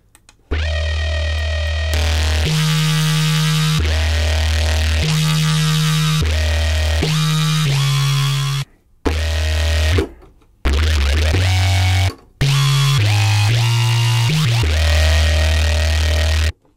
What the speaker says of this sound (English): I would want more distortion, so I would turn on.